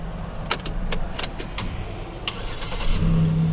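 A 2007 Chevrolet Impala cranks and starts up nearby, preceded by several sharp clicks and key jingles, then the engine settles into a steady low idle.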